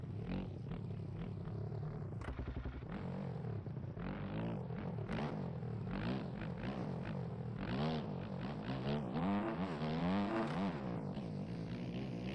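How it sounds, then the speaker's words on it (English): Motocross bike engine in MX Bikes racing game, revving hard and bouncing off the rev limiter in repeated rising-and-falling bursts, loud and continuous, with other engine drone underneath and no talk. "Could hear your rev limiter"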